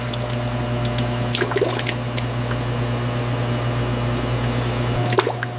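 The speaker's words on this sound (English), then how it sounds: "The cold press applies immense pressure, carefully extracting the precious, deep crimson juice" A cold press squeezing deep crimson pomegranate juice in a large factory, with a steady mechanical hum and liquid trickling and dripping throughout.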